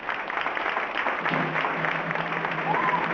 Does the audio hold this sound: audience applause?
yes